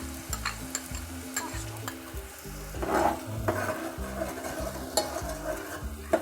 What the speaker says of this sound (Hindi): ये देखिए प्याज डालने के बाद प्याज को इसको थोड़ा सा फ्राई ज़रूर करना है।